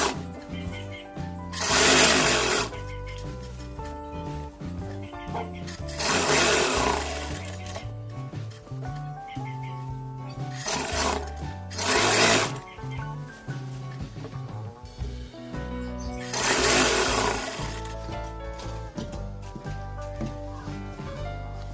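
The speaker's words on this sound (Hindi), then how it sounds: "ये पट्टी सिलाई लगाएंगे" A sewing machine stitching a strip onto a pajama waistband runs in several steady bursts with pauses between them. Background music continues underneath.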